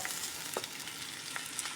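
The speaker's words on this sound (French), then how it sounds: "on fait revenir dans un peu de gras" An onion mixture sizzles in a little fat in a pan, a close, steady frying hiss with a few soft spoon-stirring scrapes and pops, no voices.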